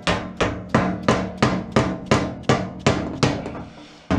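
A hammer strikes a Land Rover door skin panel laid across an anvil, about eleven sharp metallic blows in an even, quick rhythm, close and loud with short ringing decays.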